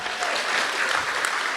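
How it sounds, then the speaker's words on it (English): Audience applause fills a room at a Grade 8 parent meeting, a steady sustained wash of clapping from many hands throughout. "Let's give Steve a round of applause"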